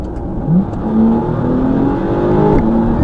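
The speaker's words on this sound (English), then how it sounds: "I'm going to press this button now and you'll hear the car." A Porsche engine revs up under a 20-second performance boost, a loud, steady whirring drone that climbs in pitch as the car accelerates.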